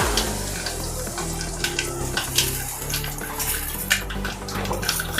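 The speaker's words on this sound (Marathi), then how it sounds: "तेल आता कडकडीत गरम झालं आहे। आधी आपण घालूया राई, जिरं," Mustard seeds, cumin and asafoetida hit smoking-hot oil for a sweet-and-sour mixed val bean dish, giving a steady, close sizzle with scattered crackles and pops over a low background hum.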